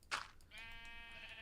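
A sheep in the Minecraft video game bleats once, a short clear wavering cry following a brief soft thump, close and alone with no talk.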